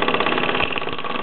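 A small blue Mamod SW1 toy steam wagon engine runs in a workshop with a poorly seated lever that lets steam escape. It makes a fast, even mechanical chuffing and knocking at close range, alone.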